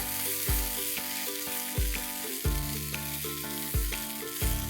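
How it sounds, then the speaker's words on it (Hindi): Ginger garlic paste frying with onions in a pan, a loud continuous close sizzle broken by regular stirring scrapes about every second, with no talking. "अदरक लहसुन को अच्छे से पका लेंगे थोड़ा।"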